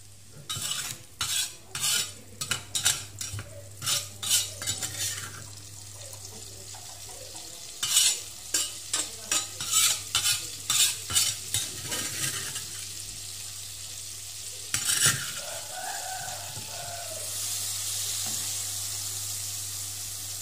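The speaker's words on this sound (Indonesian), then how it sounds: "Kita goreng bumbunya ya." Spice paste for a beef curry sambal being stirred and fried in a hot pan: rhythmic scraping strokes of a utensil against the pan over a steady sizzle, pausing midway, then a softer continuous frying hiss.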